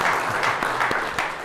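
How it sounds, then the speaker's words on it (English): Audience applause at a monthly tech meetup, a dense steady wash of clapping lasting throughout, fairly loud and close with no voices over it. "give Chris a big round of applause"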